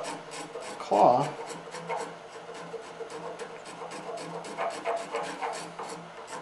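A bench chisel turned on its edge scrapes around a wood carving near the ankle to remove high spots. Close rhythmic rasping strokes come in quick succession, with one brief voiced word near the start.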